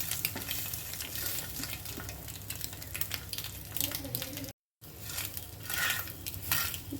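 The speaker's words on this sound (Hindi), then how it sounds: "ये देखो अंडा हमारा फ्राई हो गया है" A masala egg frying in a pan, steady close crackling sizzle with spatula scrapes and knocks, broken by a brief silent gap before the frying noise resumes.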